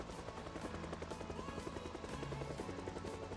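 A helicopter in the video game Project Zomboid thrums steadily in the background, a continuous faint rotor chop with a rhythmic pulsing drone and no talk.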